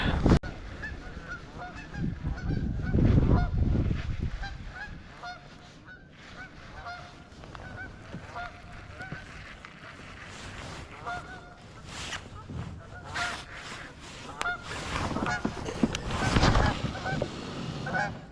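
A goose honks repeatedly on Lake Norman during a bass fishing tournament, with loud nasal honks in irregular bursts over wind and water noise from a boat.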